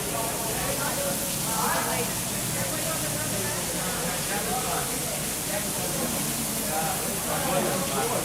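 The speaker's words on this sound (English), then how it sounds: "now the steak's on. If you can hear a sizzle in the background." Steady, broadband sizzling hiss of steak frying in a pan, continuous throughout, with a voice talking faintly underneath.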